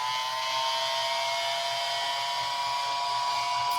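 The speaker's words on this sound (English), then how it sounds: "I'm going to grab my dryer a little bit because I need my eyes to be a little bit drier" A hair dryer blows steadily at close range to dry paint on a wooden scarecrow ornament, making a loud, continuous whirring whine that holds constant throughout.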